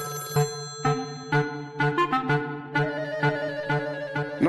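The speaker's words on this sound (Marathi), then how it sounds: "लँडलाईन वर फक्त फोन तुमच्यासाठीच येतात ना, मग उचलत जा ना पटकन." A household landline telephone rings with a bright electronic tone in evenly spaced repeating bursts, loud and close, with no voices over it.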